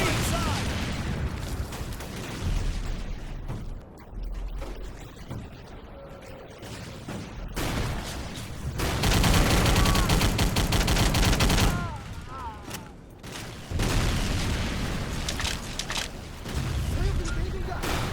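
Gunfire and a grenade explosion in a World War II video game mission on Wake Island: bursts of rapid shots and booms come and go over a constant din of battle noise.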